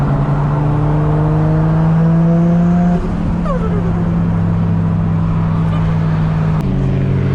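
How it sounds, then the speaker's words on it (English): A Nissan S15 sports car with an aftermarket exhaust hums at a loud steady idle, then its exhaust note drops and settles, with a brief blip of revs near the end. "It's amazing how cool cars can sound just with a nice exhaust setup."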